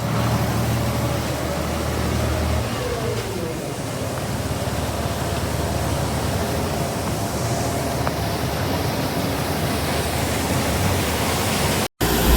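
A grain bin aeration fan running on a misty day, a loud, steady broadband roar close by that holds without change throughout, with a brief dropout near the end.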